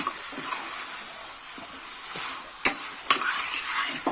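Chicken gravy masala with tomato sautéing in a pan, a soft continuous sizzle with a few sharp spoon clinks against the pan toward the end.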